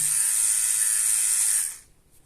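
A Philips OneBlade electric shaver buzzes in a steady, close, loud high hum while shaving, then cuts off near the end, leaving faint room noise.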